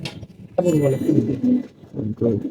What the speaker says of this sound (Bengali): এই যে কবুতর দেখতে পাচ্ছেন এই কবুতর সব পুরানো কবুতর